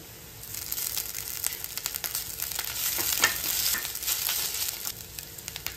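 Onions sizzle and crackle as ginger-garlic paste frying in oil in a pan for mutton bone broth, a steady close hiss with a few stirring scrapes and no voices.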